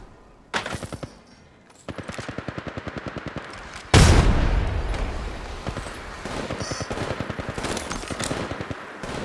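Rapid automatic weapon bursts from an Apex Legends Mobile match, loud and close, with several rattling volleys of evenly spaced shots and a heavy blast midway followed by sustained fire.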